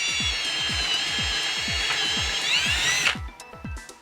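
A power drill whines steadily with rhythmic clicking pulses as it bores a hole between the ties of a model railroad layout, then the motor cuts off and a few ratcheting clicks remain.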